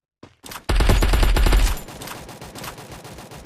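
A rapid burst of gunfire from a shooting video game, loud and dense for about a second, then settling into scattered, quieter shots and game noise.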